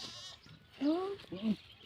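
A goat bleats twice nearby, two wavering cries in quick succession over quiet outdoor background.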